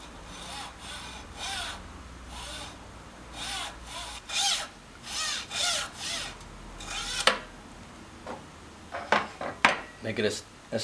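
A hacksaw cuts the tip off a popsicle stick for a small crossbow build, a series of quick rasping back-and-forth strokes, close and fairly quiet, ending in faster, sharper scrapes.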